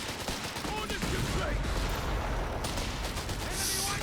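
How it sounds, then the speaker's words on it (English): Rapid bursts of machine gun fire amid artillery and battle noise in the World War II strategy game Company of Heroes 3 during a 2v2 match, dense and continuous under faint commentary. "This machine gun at a bad angle."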